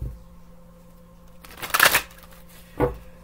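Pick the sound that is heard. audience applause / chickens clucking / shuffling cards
shuffling cards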